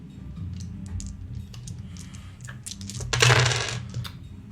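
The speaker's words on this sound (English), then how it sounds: "I gotta roll some dice." Dice rolled during a tabletop role-playing game session at the table: a short rattling clatter that builds to a loud burst of tumbling near the end, over low room murmur.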